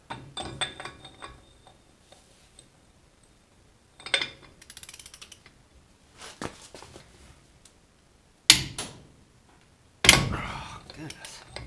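Socket wrench working a bolt on a Corporate 10 Bolt front axle, with bursts of ratcheting clicks and metallic clanks separated by pauses, close and fairly loud, ending in heavier knocks.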